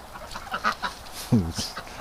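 Ducks quack a few times at night on a backyard walk-around, fairly close but faint, with scattered nasal calls and a quiet voice in the background.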